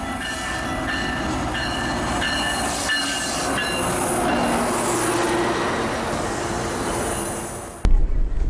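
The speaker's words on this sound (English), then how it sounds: "Here comes the train." A Toronto GO passenger train rolls in, a loud rumbling roar with metallic squeals and rhythmic wheel clatter, then an abrupt cut to a different, jumbled noise.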